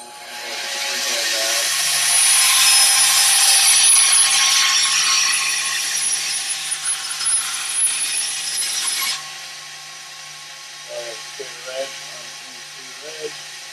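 A tool trims a small piece off an elven-style wargaming terrain piece, giving a loud, steady buzzing cut of about seven seconds that ends abruptly, with quieter handling noises before and after.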